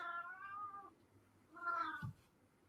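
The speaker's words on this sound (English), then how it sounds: "Oh, my cat." A house cat meows twice indoors, two drawn-out mews about a second apart, fairly close but soft, with a faint thump right after the second one.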